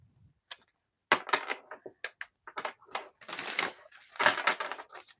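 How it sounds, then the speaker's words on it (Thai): A tarot deck is shuffled up close in a quiet room, giving soft, irregular papery slaps and riffles in short clusters, fairly faint overall. "เดี๋ยวมาโวสับไพ่รอเลยแล้วกัน"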